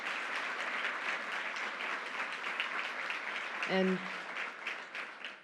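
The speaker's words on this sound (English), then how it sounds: "Let's give them a round of applause." Sustained audience applause for state legislators at a public announcement event in Troy, steady and fairly loud throughout, with a brief spoken word near the end.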